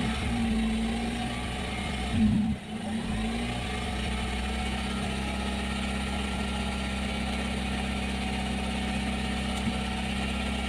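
A Honda Civic FD with a 1.8-litre R18 engine and a Versus gas conversion idles steadily close by, with one short throttle blip early on before settling back to an even hum.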